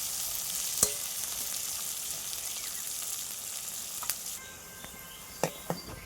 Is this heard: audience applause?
no